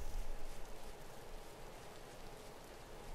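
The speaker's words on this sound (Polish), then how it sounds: "I pada cały czas." Steady rain falling in the survival game Vintage Story, a dense even hiss of drops that starts slightly louder and then settles, with no voices.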